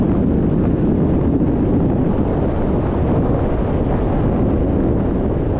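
Cold wind sweeps across a Mustang mountainside above grassy slopes, a loud, steady roar of gusts buffeting the microphone throughout.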